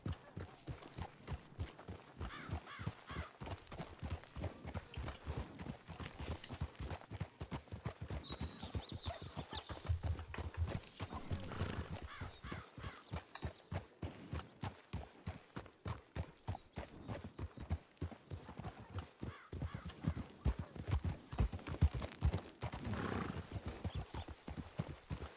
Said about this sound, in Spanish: El caballo se está yendo a la derecha, ¿qué le pasa?